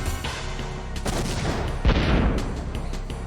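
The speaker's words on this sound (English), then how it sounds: "Also, I can shoot it with a gun." Gunfire in the role-playing game Wild Arms during a battle against a large monster, a dense crackling barrage mixed with impacts and a heavier blast partway through, loud and continuous.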